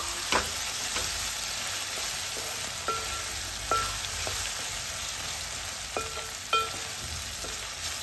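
Cut tomato frying in a pan with dried prawns for a gongura dish, a steady bright sizzle throughout, broken by occasional spoon scrapes and knocks against the pan.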